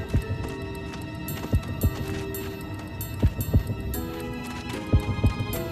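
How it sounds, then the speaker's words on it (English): Muffled, rhythmic heartbeat thumps in The Legend of Zelda: Skyward Sword HD pulse at a steady beat over a low ambient game hum, moderately loud with no talking. "I can hear heartbeats."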